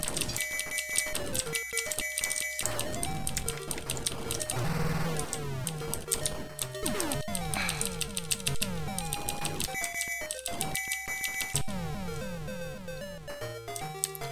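Square-wave chiptune music from a Sega Master System game plays continuously, bright buzzy melody lines over fast arpeggios and a crunchy bass, loud and alone with no voices.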